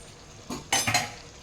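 A spoon stirs mutton kheema in a pan, with a few quick scraping clinks over a soft sizzle and no voices.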